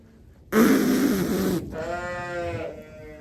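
Sheep and lambs bleat loudly up close, one harsh cry followed by a wavering, quivering bleat, with quiet barn noise around them.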